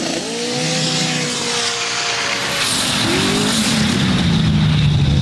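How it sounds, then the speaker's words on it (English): A powerful turbocharged drag racing car engine roars and revs hard, its pitch climbing as it accelerates away, loud and close with a turbo whine. "you gotta love the sound of that big turbo motor right there"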